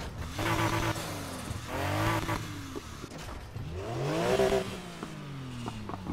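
A 2016 Golf GTI Clubsport swapped to a 514-horsepower 4.0 flat-six revs repeatedly in Need for Speed Heat, rising and falling in pitch through several aggressive bursts, with a raspy, racing tone.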